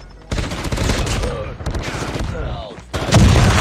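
Rapid automatic gunfire in the mobile shooter Call of Duty Mobile, a fast, dense stream of shots that runs loud throughout with a brief dip midway, then swells heavier near the end.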